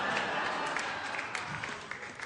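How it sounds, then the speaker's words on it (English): Audience clapping through a stand-up comedy show, a dense steady patter of applause that carries the whole short moment at fairly even loudness. "Oh, you just started clapping right away."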